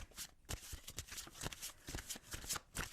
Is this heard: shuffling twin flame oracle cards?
yes